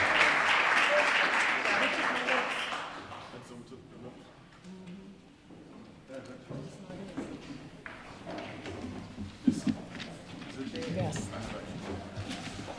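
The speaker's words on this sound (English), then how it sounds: "Please give a round of applause." An audience at an awards ceremony applauds for about three seconds, a dense clatter of clapping that fades out before people begin talking.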